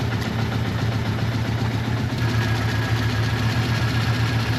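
A Suzuki GS550T motorcycle engine idles low and steady after its first start in ten years, running on a little choke with a continuous throbbing drone and no talking.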